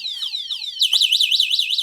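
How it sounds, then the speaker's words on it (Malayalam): An electric scooter's anti-theft alarm sounds after its motor lock engages: a loud, near electronic siren that sweeps down in repeated falling tones, then switches to a faster warbling wail. "ഇങ്ങനെ അലാറം അങ്ങ് അടിച്ചുകൊണ്ടേ ഇരിക്കും"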